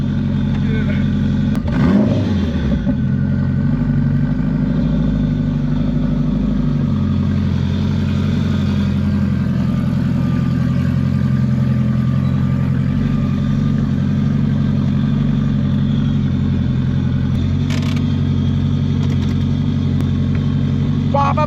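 Steady engine drone from a 450hp turbocharged Honda street car running on only 8psi of boost, with a loud rattly clutch and a brief low rev surge early on, heard from inside the cabin without a break.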